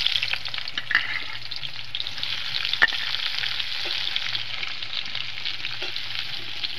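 Cumin seeds and onion frying in a pan, a steady close sizzle with occasional light crackles and one sharp tap of a utensil, no voices.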